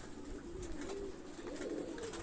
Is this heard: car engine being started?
no